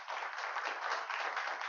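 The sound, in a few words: congregation applause in church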